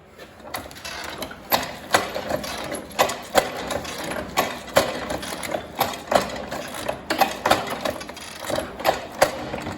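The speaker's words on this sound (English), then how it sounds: "Each time I press the handle and bring it back up, it moves across. So that ensures every cell gets pierced by a needle at least once." Swing-cage honey extractor's handle pressed repeatedly to pierce heather honey comb with needles, giving a steady rhythm of loud, close mechanical clunks and rattles, roughly every half second, with no voices.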